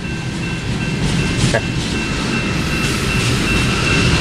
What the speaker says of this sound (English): here comes some mid trains, an NS unit, and a BNSF Jevo